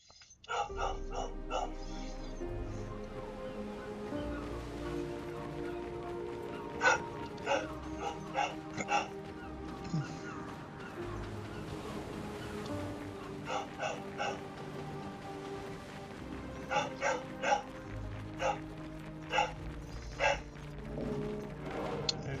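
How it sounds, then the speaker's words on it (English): Dog barking in the video game Clair Obscur Expedition 33, a few sharp barks and yips standing out over a steady game music bed, with no talking. "I have no idea what that dog is barking at"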